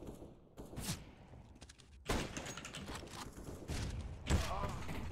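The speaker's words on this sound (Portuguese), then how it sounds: "disparam dois tiros ao mesmo tempo" Gunfire in CS:GO, several sharp shots and thumps scattered through busy game sounds, with faint talk underneath.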